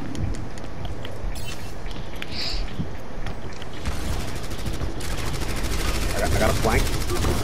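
Rapid automatic gunfire from the video game Overwatch rattles in dense bursts under constant game noise, with players talking over the action.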